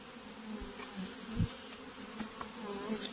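Dense, continuous buzzing of many honeybees close by at a hive being opened to fit anti-varroa strips, with a soft thump partway through as the bees are knocked down.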